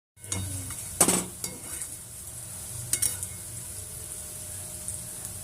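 Potatoes fry and sizzle in a pan under a steady hiss while a spatula scrapes and clinks against the metal a couple of times, close and moderately loud.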